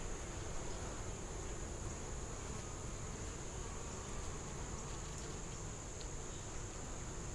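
Honey bees buzz around a nuc hive, a steady dense hum from many insects close by, fairly faint and unbroken, with no voices.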